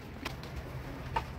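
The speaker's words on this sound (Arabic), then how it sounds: "وهذه الطيور خلنا نطلعهم يلا" Homing pigeons cooing softly inside their loft, a faint, low murmur with a couple of brief brighter chirps over steady background noise.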